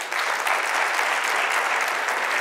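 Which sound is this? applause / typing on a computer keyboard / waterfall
applause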